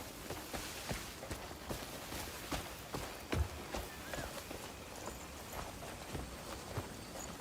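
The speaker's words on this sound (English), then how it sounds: "I recently came across this wild horse." Wild horse hooves clip-clopping in the video game Crimson Desert, a steady run of moderately loud hoof hits with one sharper thump partway through, heard alone without talk.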